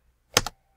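A short burst of computer keyboard typing, a few quick key presses close together in an otherwise quiet moment, like tapping out a command before pressing tab.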